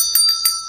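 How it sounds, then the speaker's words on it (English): A small bell rung during a tarot reading gives three quick bright strikes in under a second, close and clear, with a ringing metallic tone that sustains between the hits. "We got to ring the bell."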